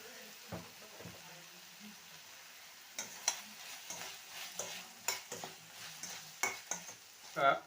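Brinjal and mango curry in gravy simmering in a pan, a faint bubbling sizzle under a series of close spoon stirs and scrapes against the pan, with no talking.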